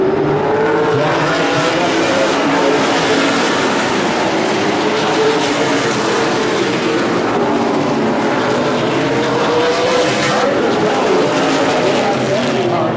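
Super late model stock cars roar around the Evergreen Speedway oval in a loud, continuous engine drone whose pitch sweeps up and down as the cars pass, with a commentator talking over it throughout.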